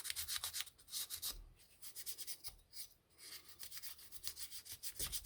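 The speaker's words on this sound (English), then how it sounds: "Get a little burnish down here." A car model surface is rubbed and burnished in quick repeated scrubbing strokes, close up and fairly quiet, with a short pause midway.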